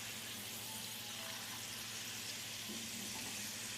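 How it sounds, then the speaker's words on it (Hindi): Chickpeas fry in oil over a low flame, giving a steady, dense sizzle that carries on evenly with no voices. "5 मिनट तकरीबन हो गए चने फ्राई होते हुए"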